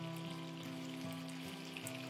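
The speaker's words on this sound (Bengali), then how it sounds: "চিংড়ি মাছটা আবার বেশি ভাজলে শক্ত হয়ে যায় না, তার জন্য অল্প দিয়ে নেব।" Shrimp lightly frying in a pan give a steady, close sizzle with soft crackling throughout, with a low hum underneath and no talking.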